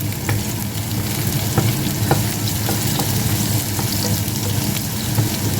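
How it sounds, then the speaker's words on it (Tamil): Shredded cabbage and spring onion sautéing in a pan: a loud, continuous close sizzle with scattered crackles and small stirring scrapes, no talking. "கொஞ்சம் வதங்க விடுவோம்."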